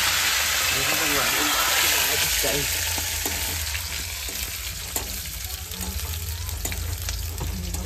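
Onion and fenugreek seeds sizzle and fry in hot oil in a kadhai, a steady crackling hiss that stays loud and close throughout, with faint stirring scrapes.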